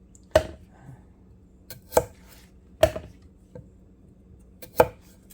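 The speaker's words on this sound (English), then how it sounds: "I'm going to slice them in half and set them aside" A knife cuts potatoes in half on a cutting board, giving four distinct, close thuds at uneven intervals with faint small taps between them.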